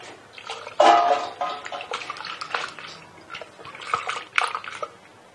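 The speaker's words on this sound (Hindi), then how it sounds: "ये थोड़ा सा पानी शामिल करना पड़ेगा" Water pours and sloshes into a blender jug while palak paneer is being cooked, a close splashing gush that swells and then trickles off unevenly, with no talking.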